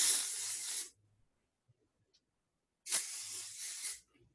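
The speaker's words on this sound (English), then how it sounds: "I'm going to spray it down one more time" Two short, close bursts of texture spray hiss onto hair, each lasting about a second, separated by a pause of near silence.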